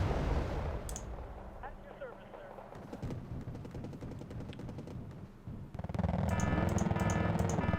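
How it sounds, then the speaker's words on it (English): Tank combat in the Wargame: Red Dragon video game, with heavy booming gunfire and explosions, several cannon shots and rattling bursts over a rumbling battlefield bed, loud throughout. "Tank combat is exciting."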